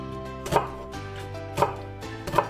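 Three evenly spaced knife strokes cut through an onion on a board, each a crisp close slicing crunch, with a faint steady hum in between and no voices.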